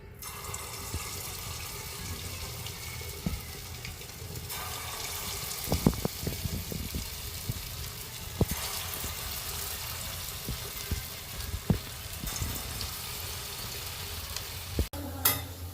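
Potato and egg pakoras frying in hot oil, giving a steady, close bubbling sizzle that runs throughout, with occasional light clinks and stirring knocks from a utensil.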